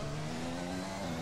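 A Ferrari Formula 1 race car engine in the F1 2021 video game drones loudly and steadily with a strong tonal hum throughout the brief moment, with no talking.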